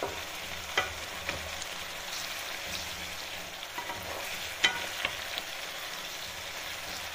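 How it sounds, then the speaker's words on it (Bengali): Spice paste for a Bangladeshi duck curry sizzles and fries in a pan, with continuous crackling and occasional scraping clicks as it is stirred. "একটু ভালো করে মশলা কষিয়ে নিই।"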